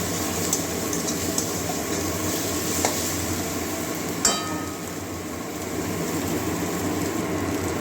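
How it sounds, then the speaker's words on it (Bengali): Ginger-garlic paste fries in hot oil in a pan for a Bengali potato and kundri curry, a steady close sizzle with occasional scrapes and clinks of a stirring spoon. "আদা রসুন এটা কাঁচা গন্ধ যাওয়া পর্যন্ত ভেজে নেব"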